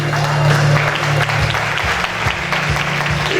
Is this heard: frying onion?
no